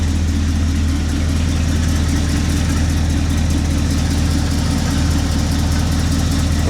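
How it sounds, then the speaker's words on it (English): A loud Chevy C10 engine idles steadily up close, its low rumble joined by a rapid ticking, puffing rattle from an exhaust header leak. "I hear a header leak."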